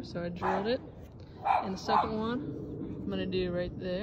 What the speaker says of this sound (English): You can hear my naughty dog in the background